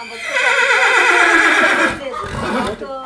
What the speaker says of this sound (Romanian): Ia du-te la calul un pic, Ioane, să vedem ce face gălăgia asta.